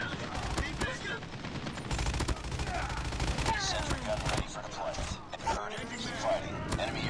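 Rapid automatic gunfire from Call of Duty Mobile multiplayer, dense bursts of shots and impacts crackling almost continuously and loudly through the whole stretch, with a voice talking over the action.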